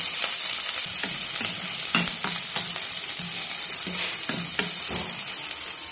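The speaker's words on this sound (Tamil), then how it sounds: "வெங்காயம் லேசாக வதங்கட்டும்." A medium-sized onion sautés in a pan with broken dal for red poha upma, a continuous loud sizzle broken by repeated scraping stirs of a spoon against the pan.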